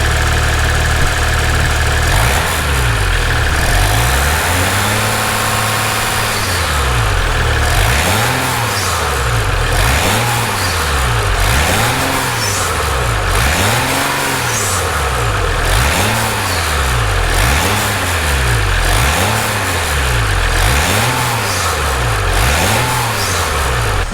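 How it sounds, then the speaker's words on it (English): A RAM EcoDiesel 1500 pickup's turbo diesel engine is revved repeatedly in neutral, each rise and fall of engine pitch coming in a steady cycle of about a dozen revs. The baffled exhaust keeps it loud, close and unbroken, with no talking. "I'll rev it here in neutral"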